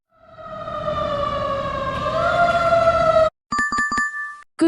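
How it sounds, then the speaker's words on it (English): A fire truck siren wails loud and close, a rising electronic tone sweeping upward for about three seconds, then cutting to a few sharp, choppy pulsed yelps before stopping abruptly. "Sound is fire truck siren."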